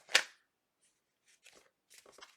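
Tarot cards shuffled by hand during a reading: a sharp riffling burst at the start, then quieter, scattered card slides and taps after a short pause.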